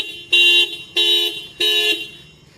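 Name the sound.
Tata Punch honking when the key fob lock button is held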